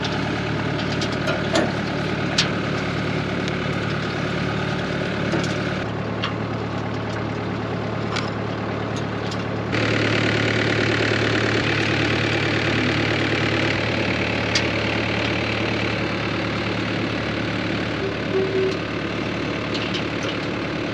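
A side-by-side utility vehicle idles on a vegetable farm during planting season, giving a steady, continuous engine drone with a faint knock, close by and unbroken for the whole stretch.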